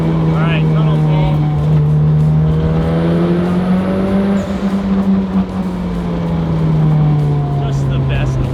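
A Mitsubishi Evo engine pulls hard inside a tunnel, a loud steady drone that climbs slowly in pitch with rich echoing harmonics and sustained intake roar.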